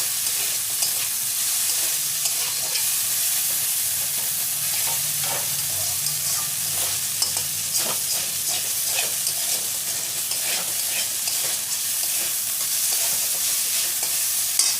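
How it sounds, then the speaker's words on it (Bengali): Steady, loud sizzling of chicken frying in a pan, with repeated scraping and clinking of a utensil stirring throughout. "চিকেন একটু বাকি আছে, একটু ভেজে নেবো আর একটু নাড়িয়ে"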